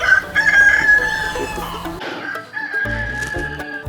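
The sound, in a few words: rooster crowing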